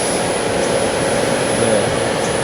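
Active cooling fan whirring during EV charging, from either a Renault Zoe or a three-phase Zappi charger: a loud, steady broadband whoosh with a faint high whine, continuous and close by.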